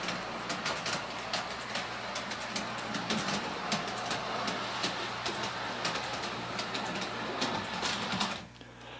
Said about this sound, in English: we get basically the same back and forth operation with the large scale train